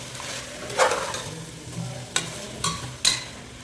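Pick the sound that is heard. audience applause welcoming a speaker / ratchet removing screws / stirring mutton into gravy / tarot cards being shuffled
stirring mutton into gravy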